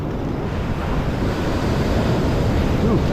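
Large ocean waves breaking on a beach, a continuous loud roaring wash of surf with wind buffeting the microphone.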